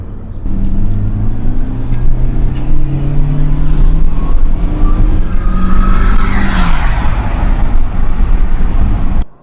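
A Mercedes W203 C200K drives along and accelerates, with a steady, loud engine hum rising in pitch through the gears, wind and road roar heard from inside the car, and no talking.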